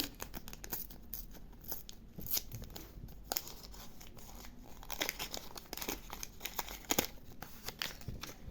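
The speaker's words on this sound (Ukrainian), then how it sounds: "Давайте відкриємо цей пакет." A plastic packet is torn open and crinkled up close, with quiet irregular crackles and rustles over about eight seconds and no speech.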